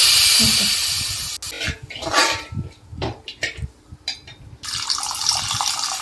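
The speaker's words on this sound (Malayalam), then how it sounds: "ഇതിലേക്ക് പിഴിഞ്ഞു വച്ചിരിക്കുന്ന പുളി ശർക്കര മിക്സ് മിക്സ് ചേർത്ത് കൊടുക്കാം" Squeezed tamarind and jaggery liquid is poured into a hot pot of roasted spices for tomato rasam. A loud rushing pour comes first, then gurgling splashes and a bubbling hiss, all close, with no talking.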